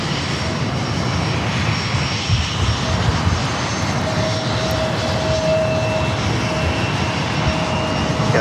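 A jet airliner takes off from runway 27 at San Diego airport with a loud, steady engine roar that fills the whole stretch without a break.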